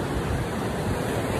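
Sea waves at a summer beach make a loud, continuous roar of breaking surf, close by and steady throughout, with no voices heard.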